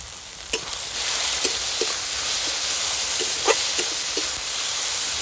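Ground spice paste with cumin and coriander powder fries in a pan, giving a constant bright sizzling hiss close up, dotted with a handful of soft spatula scrapes and taps; no one speaks.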